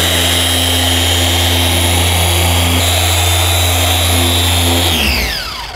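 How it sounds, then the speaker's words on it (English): A car polisher working on paintwork, a steady, loud, high motor whine held close that winds down and stops near the end. "One of the biggest tricks to using this is to move this polisher"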